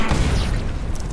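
A grenade explosion in a Ghost in the Shell shooter game, a loud, close, rumbling boom filling the whole short moment with no talk over it.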